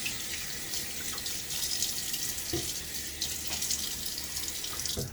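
Running tap water splashes steadily into a sink as a hand is rinsed under the stream, close and continuous.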